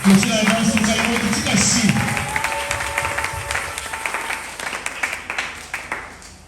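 A church congregation applauds at a Sunday service, a dense burst of clapping from many hands that tapers into scattered claps, with voices audible over it.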